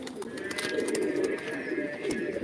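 Pigeons nesting by their eggs give low, throaty coos in a steady rolling series, near and moderately loud, with light clicks and rustles mixed in.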